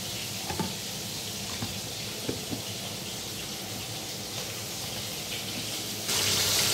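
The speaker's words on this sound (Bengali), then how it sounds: "এখানে দেখো মাছ ভাজা হচ্ছে" Fish frying in a pan in a home kitchen gives a steady, moderate sizzle with a few soft clinks, and the hiss grows louder and brighter near the end. No one speaks.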